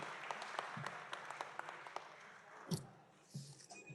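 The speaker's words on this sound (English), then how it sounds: "give all yourself a big round of applause" Town hall attendees give a quiet, scattered round of applause, distinct claps pattering softly at a distance with a few louder knocks and shuffles.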